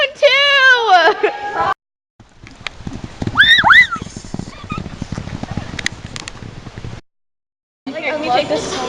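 A horse in a video game neighs loudly at the start and again briefly in the middle, between stretches of hoof clip-clops and rustling, with short silent gaps and a voice talking at times.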